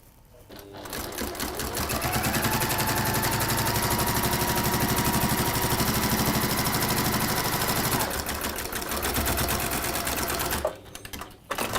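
A sewing machine stitches a mitered corner of fabric in one steady, loud, close run, starting and stopping with short bursts at either end.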